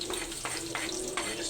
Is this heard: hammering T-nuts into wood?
no